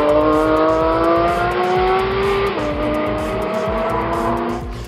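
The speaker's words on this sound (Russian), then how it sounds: "инженеры компании Porsche приступили на автодроме Нюрнберг к скоростным испытаниям нового поколения спорткара Porsche 911 GT3" Porsche 911 GT3 of the 2021 model year on speed tests at the Nürburgring, its engine screaming loud and close as it holds high revs, then dropping pitch sharply at a gear change before pulling hard again, with no talk.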